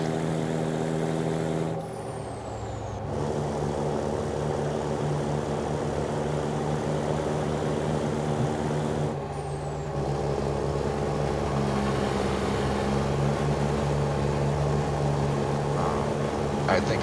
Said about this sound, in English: I think I've heard that engine sound before, or one that sounds real close to it.